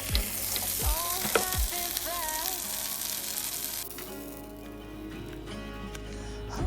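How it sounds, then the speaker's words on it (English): A spinach, mushroom and onion quesadilla cooks on a griddle brushed with olive oil, giving a steady, close sizzle throughout with no talking. "Preheat the griddle, add olive oil, brush everywhere, and then you can cook for 5 minutes."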